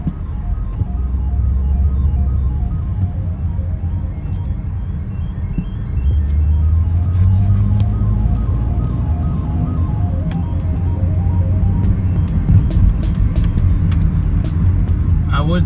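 A car drives through Friday night traffic, heard from inside as a steady low engine and road rumble that swells slightly partway through, with no talking.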